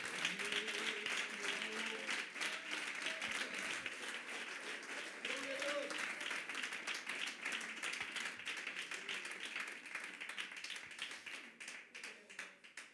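A church congregation applauds during a sermon, rhythmic clapping sustained for many seconds, with voices calling out over it and the sound fairly quiet overall.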